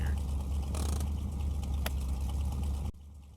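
Car engine running with no exhaust fitted, in a garage vehicle game, a loud, steady low rumbling idle with a brief scrape and a sharp click, cutting abruptly quieter near the end, with no talk.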